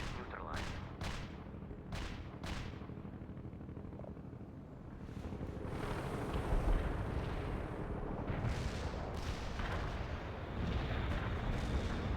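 Artillery shelling in the real-time strategy game World in Conflict: several sharp distant booms at the start, then a rumbling wash of impacts and battlefield noise that swells and holds steady.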